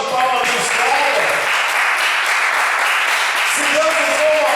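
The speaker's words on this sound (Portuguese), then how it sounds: "Uma salva de palmas nos caras." Church congregation applauding together at a worship service, a dense steady wash of clapping with cheering voices mixed in, close and loud throughout.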